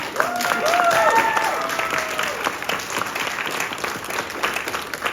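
A theatre audience applauds for Harlequino during a Cinderella stage show, a steady, dense wash of clapping that runs throughout, while a voice with a lilting, sung or exaggerated tone sounds over it near the start.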